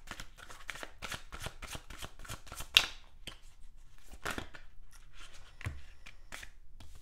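Oracle cards are shuffled over several seconds in a steady run of soft, rapid riffling flicks, close and fairly quiet, with one sharper snap partway through.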